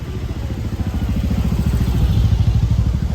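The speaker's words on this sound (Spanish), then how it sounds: "Mira la moto por donde viene" Motorcycle in Palermo street traffic, a rapid low engine putter growing gradually louder and nearer over continuous city noise, with no voices.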